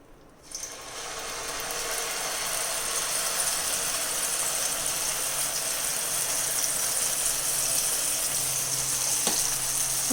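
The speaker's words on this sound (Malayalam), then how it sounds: "ഇനി ഈ പഴം അരച്ചത് ഈ നെയ്യിലിട്ടിട്ട് നല്ലതുപോലെ വരട്ടിയെടുക്കണം നമുക്ക്" Mashed banana sautés in hot ghee in a pan, starting with a brief clatter and then settling into a loud, continuous, close sizzle for the rest of the time.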